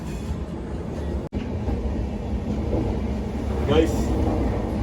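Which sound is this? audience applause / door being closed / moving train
moving train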